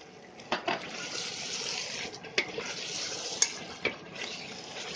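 Chicken changezi gravy stirred in a pan with cream and methi nearby, a steady soft sizzle broken by several sharp scrapes and clinks of a spoon against the metal, close and fairly quiet, with no talk.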